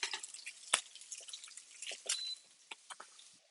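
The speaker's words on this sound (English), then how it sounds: "drain off the oil" Cooking oil left from frying trout drains into its original container as a thin trickle with irregular drips and splashes, close and fairly quiet.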